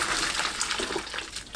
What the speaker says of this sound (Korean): 톳이 전체적으로 초록색이 되면 바로 불 끄고 찬물에 헹굽니다